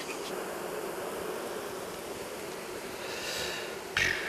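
Honeybees at an open hive, opened during a colony split, hum in a dense steady drone close by, with a brief louder buzz near the end.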